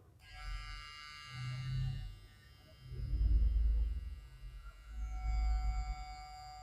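A StyleCraft Rogue hair clipper with a metal body runs steadily, its motor giving a close, bright electric buzz with a low hum that swells slightly in level.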